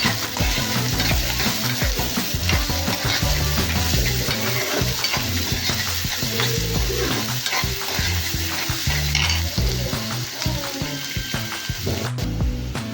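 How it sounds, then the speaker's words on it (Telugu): Goat blood frying with green chillies in a pan sizzles loudly and continuously, with dense, rapid scraping and clattering from vigorous stirring close by and no voices. "ఇప్పుడు బాగా ఫ్రై అవ్వాలి, రెడ్ కలర్లో అవ్వాలి."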